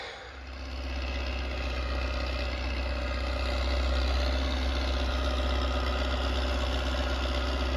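Tractor engine hitched to a cultivator in a buckwheat field runs near and loud, a steady low rumble that builds slightly as the throttle opens and then holds at a continuous drone.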